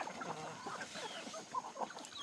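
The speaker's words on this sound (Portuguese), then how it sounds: "Alimentar as galinhas." Hens cluck busily while being fed medicated feed with vitamins on a farm, a faint cluster of overlapping short clucks and soft calls.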